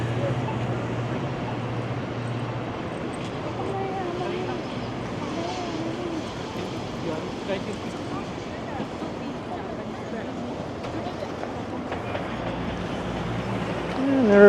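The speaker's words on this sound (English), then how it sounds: "there's a Up Express train going underneath the pedestrian bridge." A UP Express train passes beneath a pedestrian bridge in downtown Toronto, a steady low rumble and rolling rail noise heard from above amid city traffic, with people talking over it throughout.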